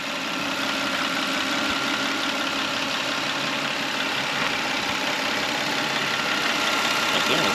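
A 2007 Toyota Solara convertible with the 3MZ-FE V6 idles steadily, a smooth continuous engine hum heard up close with no talking.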